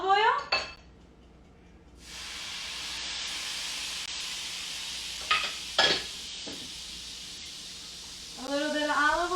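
Butter and a little olive oil go into a hot pan already used for potatoes, ahead of seasoned shrimp. A steady hiss and sizzle carries on with a few pan and utensil clanks, and a person talks at the start and end.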